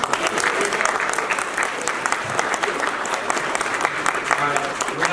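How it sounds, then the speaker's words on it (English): An audience at a convention panel claps steadily, a dense crackle of many hands applauding at an even level, with a few voices faintly underneath. "round of applause"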